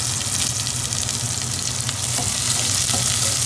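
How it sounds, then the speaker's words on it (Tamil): Mustard seeds and onion frying in hot oil, a loud, dense, steady sizzle with faint crackles and pops running through the whole short stretch, with no voices. "கடுகு மட்டும் போட்டு வெடித்த உடனே வெங்காயத்தை போட்டு தாளிக்கிறேன்."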